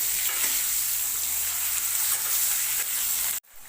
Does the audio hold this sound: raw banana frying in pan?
yes